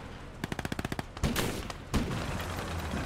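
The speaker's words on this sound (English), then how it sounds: "AT rifle's doing some damage." In a Gates of Hell: Ostfront battle, a quick burst of rapid automatic fire is followed by two heavy, booming anti-tank rifle shots spaced under a second apart, each trailing off into battlefield rumble.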